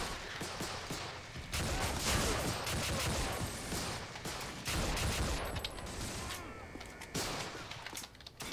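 Rifle shots and gunfire in the Call of Duty: United Offensive video game, a dense, continuous barrage of cracks and bursts at moderate loudness throughout.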